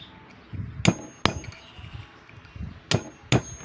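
Sharp metallic hammer strikes land on a washing machine motor during stripping of its copper windings, four loud clanging blows spaced irregularly over a quiet workshop background with no talking.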